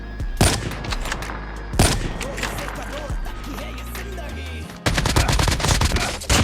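Assault rifle fire in COD Mobile rattles out in rapid bursts, loud and close, with sharp individual shots and brief pauses between volleys over busy in-game sound.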